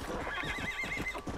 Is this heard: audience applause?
no